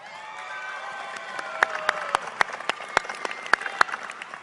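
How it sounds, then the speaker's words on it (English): An audience at a business school commencement ceremony applauds and cheers. The clapping is steady and moderately distant, with some louder individual claps and a few whoops rising above it. "She apparently brought a cheering section,"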